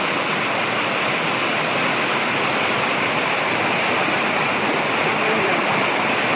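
Strong, rushing river water in the rainy season roars as a loud, continuous broadband wash, steady throughout with no breaks.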